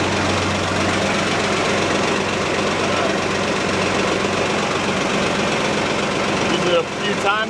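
Allis Chalmers 7000 tractor engine running at a steady, loud, knocking idle throughout, close by, ending with a brief shift near the finish.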